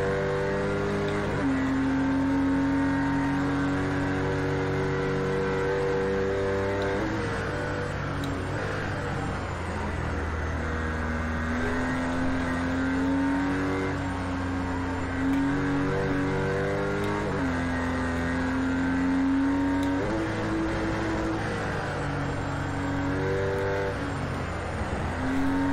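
Race car in Project Cars 2 on a narrow track, engine droning loud and close with pitch climbing and dropping through gear shifts and slides, steady without pauses and no talking.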